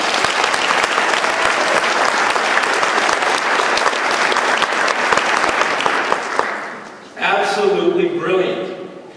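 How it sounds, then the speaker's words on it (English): A large audience at a college convocation claps steadily and loudly for several seconds, then the applause cuts out and speech follows. "Give them a round of applause."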